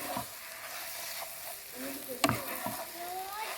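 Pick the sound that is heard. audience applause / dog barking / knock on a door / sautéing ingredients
sautéing ingredients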